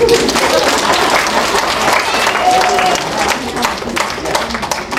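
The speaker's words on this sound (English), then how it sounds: "Clap now!" An audience of families claps together at a library magic show, a dense burst of applause with crowd noise and a voice briefly audible under it.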